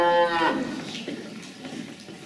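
A cow gives a single loud, drawn-out moo up close that fades off, followed by quieter background noise.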